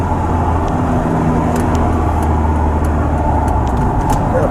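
A BMW X3 with a juddering fault, its engine giving a steady loud drone inside the cabin while shifting down to third gear at low speed, with a low rumbling hum throughout.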